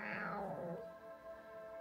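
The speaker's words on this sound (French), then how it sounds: "on a affaire à un chat qui crie beaucoup" A cat lets out one drawn-out, falling meow while being brushed, fairly quiet and close, followed by a soft lingering tone.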